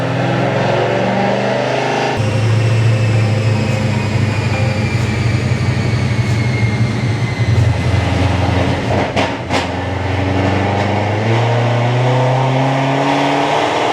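A car engine on a base tune revs with throttle surge, a loud sustained drone whose pitch rises and falls unevenly, with a brief clatter partway through and no talk.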